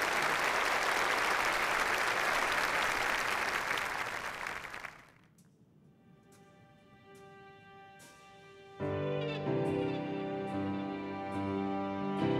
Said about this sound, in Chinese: 我哋一齐拍掌欢迎佢